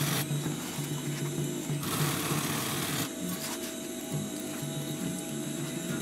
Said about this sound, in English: Now start sewing.